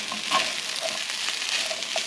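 Cold beans hit a hot pan and fry with a steady, close sizzle and crackle, a few soft stirring scrapes cutting through, no voices.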